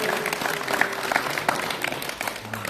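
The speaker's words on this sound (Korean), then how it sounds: "다시 한번 큰 박수 주시기 바랍니다" Audience applause at a badminton club's 33rd founding anniversary event, a steady wash of clapping from a seated crowd that continues evenly for the short span, with faint voices mixed in.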